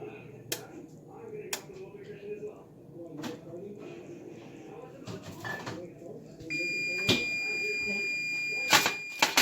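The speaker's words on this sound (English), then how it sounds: "you heard the microwave beep" A steady electronic tone switches on partway through, like a microwave beeping, over background talking and kitchen clatter.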